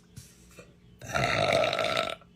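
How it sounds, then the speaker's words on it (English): A woman burps twice: a faint, short one first, then after a pause a longer, louder, throaty belch lasting about a second, close to the listener. "burping is really not that hard."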